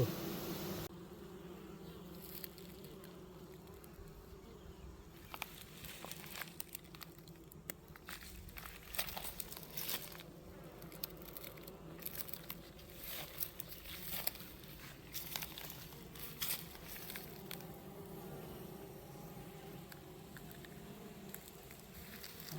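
Bees buzz in a low, steady drone with close passes rising and falling, quiet overall, with scattered soft crackles and ticks and no talking.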